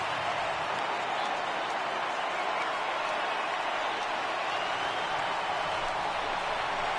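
A stadium crowd of over 36,000 in the MLB 18 baseball video game rises with a continuous roar of cheering and applause, steady and fairly distant, with no talk over it.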